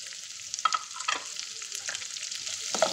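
Onions for poha frying in a pan, a continuous close sizzle broken by several scraping stirs, with no talking.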